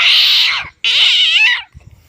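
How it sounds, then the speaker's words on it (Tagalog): A cat fighting a cobra lets out two long, loud yowling growls, harsh and strained, one after another with a brief gap, followed by faint scuffling. "nag-aaway yung sawa kag pusa."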